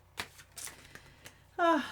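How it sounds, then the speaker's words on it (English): Tarot cards being shuffled by hand during a reading, giving a few soft, close riffling ticks and taps, then a short brighter burst at the end. "Beautiful last little shuffle."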